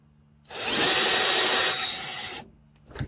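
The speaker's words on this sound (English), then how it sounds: "we're going to stick our drill bit inside the hole, and we're going to give it just a couple of spins." A power drill whirs up close, spinning a bit inside a hole for about two seconds with a rising whine before cutting off, followed by a brief clunk.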